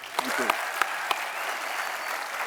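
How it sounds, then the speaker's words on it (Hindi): A small studio audience on The Kapil Sharma Show applauds steadily, a few sharper claps standing out early on before the clapping settles into an even patter. "एक बार फिर से तालियां बनती हैं।"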